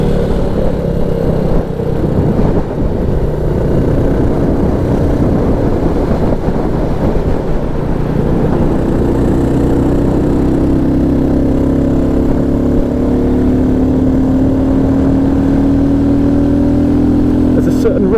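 A Royal Enfield Classic 350 motorcycle engine pulls hard under steady load on a mountain pass, its pitch climbing smoothly as revs build, continuous and close throughout with wind noise.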